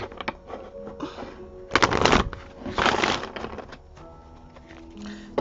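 Playing cards are shuffled by hand, with a few crisp riffling bursts and softer handling clicks between them, close and clear.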